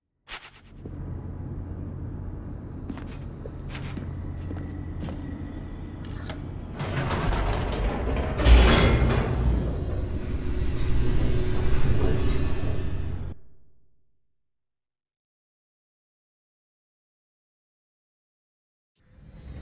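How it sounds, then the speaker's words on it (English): Elevator plunging downward in the video game The Stanley Parable: a mechanical whirring rumble with creaks and clanks that swells louder midway, then cuts off abruptly into silence. "The elevator raced downward, plummeting towards an unknown fate."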